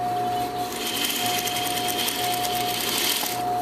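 A sewing machine understitches the facing on a V-neck garment, running in one close, steady, continuous hum with no voices over it.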